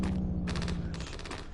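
Rapid, loud bursts of gunfire in the VR video game Medal of Honor, a fast rhythmic stream of shots with a brief gap before another quick volley, close and dense over a steady low rumble.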